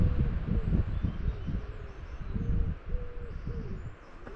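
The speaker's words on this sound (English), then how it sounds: "First wood pigeon I've heard today." Wood pigeon cooing outdoors, a series of soft, rhythmic low hoots repeating steadily at moderate distance over a breezy background.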